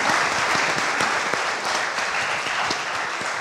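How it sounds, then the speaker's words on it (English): An audience at a panel discussion on social innovation between India and Africa applauds the guests with loud, dense, continuous clapping from many hands. "Please give them a round of applause for their input."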